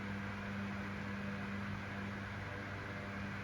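A Panasonic 9-inch F-9100 desk fan runs steadily at close range, giving a continuous airy whoosh over a low, even motor hum with no breaks or changes in level.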